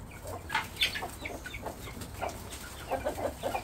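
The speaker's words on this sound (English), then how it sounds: "So we got our new chickens today." Vorwerk chickens cluck softly nearby in short, scattered bursts, a few calls overlapping, fairly quiet throughout.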